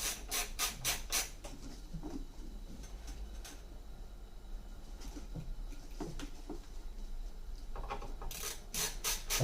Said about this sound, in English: Really enjoying this screwdriver actually.